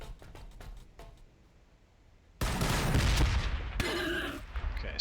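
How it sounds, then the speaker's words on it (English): Grenade explosions in the Warhammer 40,000: Battlesector strategy game, heard as a sudden loud burst of blasts and debris that starts halfway through, with a second crack a moment later, after a quieter stretch of faint clicks. "So let's go ahead and just grenade them."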